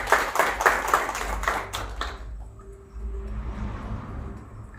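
Audience applause greeting a speaker at a Gastrocultural reading circle event in Puebla, a short burst of clapping for about two seconds that quickly fades into room murmur.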